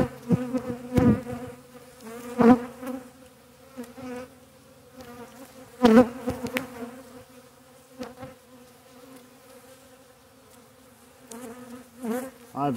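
Honey bees buzz around beehives during a spring hive check, a steady close hum with occasional louder passes near the microphone.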